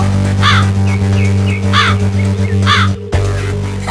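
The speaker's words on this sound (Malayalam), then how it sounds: "മുത്തശ്ശി എന്റെ നെയ്യപ്പം കാക്ക തട്ടിപ്പറിച്ചു കൊണ്ടുപോയി" A crow in an animated cartoon caws loudly and close after snatching a neyyappam sweet, giving three harsh caws with softer calls between them, against a steady low hum.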